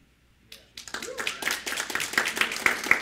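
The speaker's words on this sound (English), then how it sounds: "Okay, so that was like mediocre applause." An audience breaks into scattered clapping after a brief silence, building into moderate applause of individual hand claps with a few sharper near claps, a voice briefly audible at the start.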